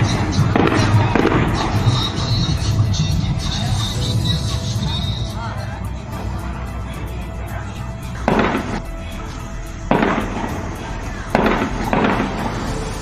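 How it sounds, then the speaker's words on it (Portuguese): Several sharp, loud bangs of a police shootout with drug traffickers in Nova Friburgo, Brazil, crack out at irregular intervals over a steady rumble of background noise, with a few more isolated shots toward the end. "é possível ouvir parte da intensa troca de tiros"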